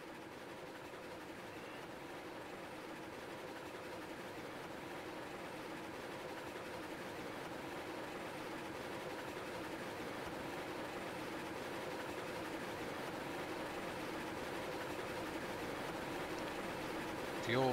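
A train passes in the Railroads Online video game, a continuous low rumble and rolling clatter that slowly grows louder across nearly eighteen seconds, with faint talk in the background.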